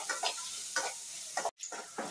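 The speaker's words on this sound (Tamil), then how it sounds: "பாருங்கள், நல்லா வெங்காயம் வதங்கிடுச்சு." Onions sautéing in a pan for an Andhra-style dish, with soft sizzling under rhythmic scraping stirs, about four strokes in two seconds, close and fairly quiet, with one brief dropout.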